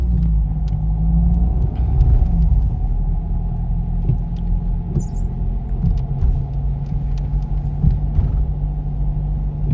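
Car driving straight through a city intersection at the lights, a steady low engine and road rumble with no talk, holding an even level throughout.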